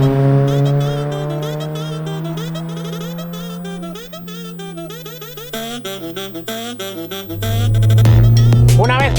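A 2006 Suzuki Swift Sport engine revs while being driven, its loud tone rising steadily, dipping at a gear change, then climbing again under acceleration, heard close from inside the car.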